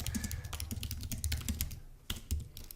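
Fast, steady typing on a computer keyboard, close and fairly quiet, with dense clicking keystrokes and a brief pause before a few more taps.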